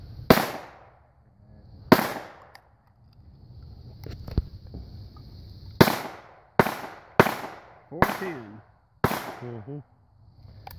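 A Judge revolver fires 45 Long Colt and 410 rounds outdoors, giving loud, close gunshots with sharp cracks and decaying echoes. The shots come singly and then in a faster cluster, with a brief metallic clunk between.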